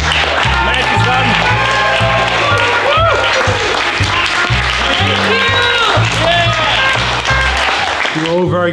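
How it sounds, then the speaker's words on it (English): A film crew applauds actor Matt at the wrap of the final filming day, clapping and cheering loudly over a steady pulsing music beat, with excited voices throughout. "Applause for Matt!"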